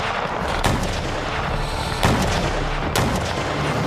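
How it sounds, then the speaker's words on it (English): Artillery shells bombarding the walls of Ulm during a Napoleonic siege: three heavy booming blasts at irregular intervals over a dense, continuous roar of battle. "shattered by a bombardment of artillery shells at the city's walls"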